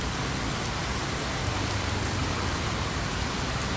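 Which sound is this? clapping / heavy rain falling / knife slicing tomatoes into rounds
heavy rain falling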